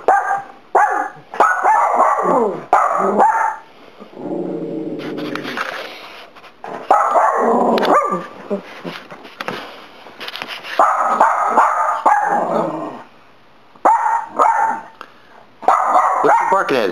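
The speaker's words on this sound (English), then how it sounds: "I can't tell what he's barking at." A dog barks repeatedly in loud bursts and pauses, with some whimpering yips and a person talking in between.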